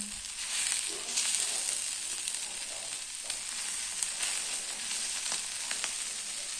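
Amboli, a rice pancake, frying in oil on a pan with a steady, soft hiss and an occasional faint crackle, nearby and unaccompanied by speech.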